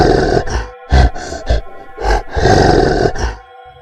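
A strange, growling sound comes from a puppet sitting on top of a cupboard at midnight, loud, rough roaring bursts repeating in uneven pulses, up close with no talking.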